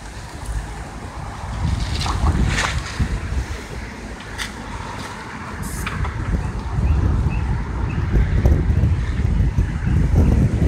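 Strong wind gusts across a hotel rooftop during shingle painting, a loud continuous roar and buffeting on the microphone with low rumbling swells throughout, no voices.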